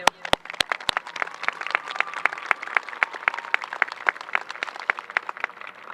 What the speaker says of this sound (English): give a round of applause to thank our parents and everyone who has supported us